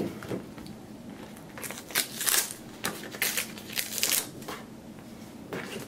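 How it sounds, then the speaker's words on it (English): Vinyl letter being peeled off its backing sheet for a baby shower banner: a run of dry crackling, crinkling tears and rustles, close and fairly soft, in uneven bursts with no one talking. "you can use a spatula or you can use your fingers just to peel that off."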